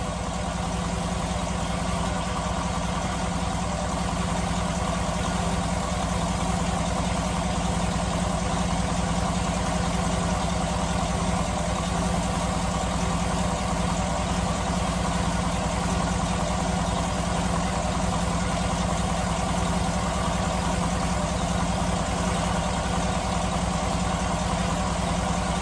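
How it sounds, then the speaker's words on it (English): A 2007 Cadillac Escalade V8 idles steadily, firing on all cylinders, with a constant loud hum and low rumble holding unchanged for the whole stretch, no voices over it. "So it's firing on all cylinders."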